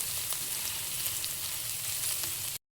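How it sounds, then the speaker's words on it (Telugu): Onions frying in a pan until they turn brown, a steady close sizzle and crackle with faint stirring, heard alone without talk and ending abruptly. "బ్రౌన్ కలర్ వచ్చే వరకు ఫ్రై చేయాలి."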